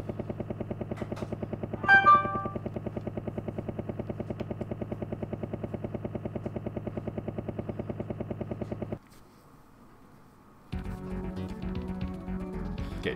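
Looping helicopter rotor chop from a Super Nintendo game, steady and droning with a brief bright burst early on, then the loop drops out for a moment before busier game sound returns.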